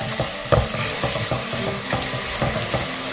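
Food stirred and frying in a pan with lime leaves and chilies, a steady sizzle broken by repeated scraping and clattering strokes of the spatula, close and moderately loud with no talk.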